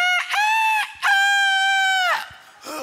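A human voice imitates a rooster's crow, a loud, drawn-out harmonic call in a few bursts, close and clear with no talking.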